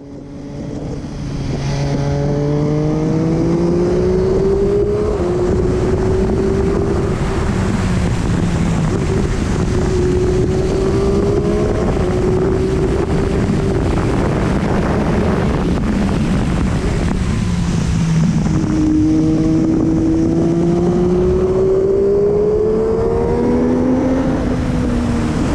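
A 2018 MV Agusta F3 675 RC sport motorcycle engine revving and shifting through gears while riding on the road, rising and falling in pitch under heavy wind noise.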